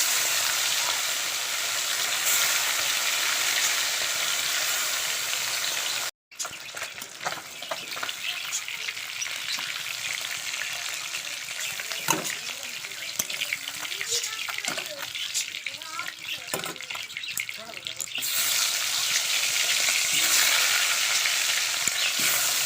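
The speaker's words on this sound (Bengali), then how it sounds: "এখানে তেলও গরম হয়ে গেছে। চলো মাছগুলো এবার দিয়ে দিই।" Fish sizzles and crackles loudly in hot oil in a home kitchen, a dense, steady frying hiss that breaks briefly and then carries on with bursts of spitting and stirring for over twenty seconds.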